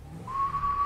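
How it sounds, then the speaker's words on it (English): A person whistles a single sustained, steady tone that starts partway in and holds to the end over a low background hum. "Start whistling and then add the hum to it."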